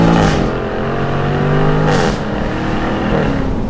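A Jaguar F-Type R P575 cabriolet's V8, set in dynamic mode, accelerates at full throttle in first gear with a loud, rising roar. A brief surge breaks in partway through, and the engine keeps pulling strongly close to the microphone.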